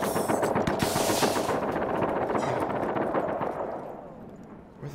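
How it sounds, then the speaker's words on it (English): Rapid automatic gunfire rattles in dense bursts in the Star Citizen video game, loud at first and then thinning and fading over several seconds, with no speech. "Where are those shots coming from?"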